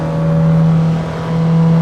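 A Mazda MX-3's single-overhead-cam B6 1.6-litre four-cylinder engine, simulated in Assetto Corsa, drones at a steady, even pitch for a couple of seconds, close and continuous.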